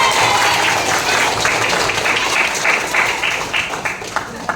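A roomful of schoolchildren at a lesson clap together, a loud, dense burst of applause that thins into scattered claps toward the end, with some voices mixed in.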